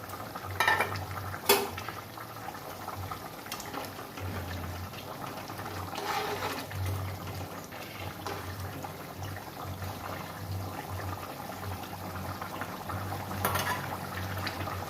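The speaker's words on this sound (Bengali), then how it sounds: "ঝোল ফুটে গেছে আমার এবার আমি মাছগুলো দিয়ে দিচ্ছি" Rohu fish curry with ridge gourd, potato and lentil dumplings bubbles steadily in a pan, a close, continuous simmer with a few louder clinks and splashes early on and no talking.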